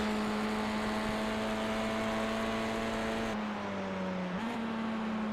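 Audi touring car race engine at a steady high-revving drone during a Wednesday Night Tin Tops race, the pitch dipping briefly and climbing again near the end, continuous and fairly close with no voices.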